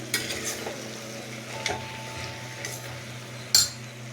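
Spoon stirring broad beans and field beans frying with softened tomato in a pan for a Telugu curry, with soft sizzling and a few sharp clinks of utensil against metal over about four seconds.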